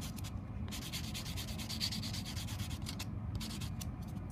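Rhythmic rasping strokes of a white 220-grit block sanding acrylic nails, close and steady, with repeated back-and-forth rubbing and no talk.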